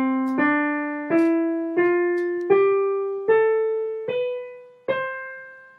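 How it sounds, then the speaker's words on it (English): A major scale is played ascending as eight evenly spaced, clear notes, each struck and left to ring and fade, stepping steadily upward in pitch. "So our major scale sounds like this."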